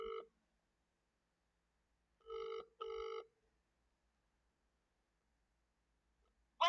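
A telephone ringing on an outgoing call, with short electronic ring bursts heard in a brief pair, a lone burst before them and the start of another at the end, separated by silence, quiet and clear.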